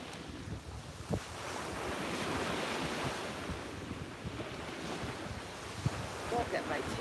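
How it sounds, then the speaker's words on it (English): Ocean waves wash steadily onto a beach at sunrise, a continuous broad surf roar with gusting wind buffeting the microphone and a few brief knocks; no clear talking. "the waves are fun today"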